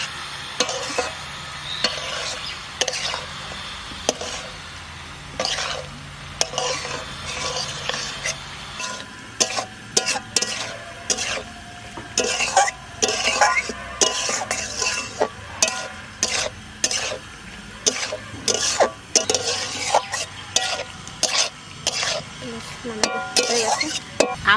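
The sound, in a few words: stirring chilli mushrooms frying in a pan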